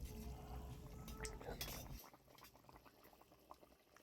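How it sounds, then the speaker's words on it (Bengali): A spice and water mixture comes to a boil in a pan, giving a faint bubbling that is busier at first and then thins to scattered pops. "টকবক করে ফুটছে।"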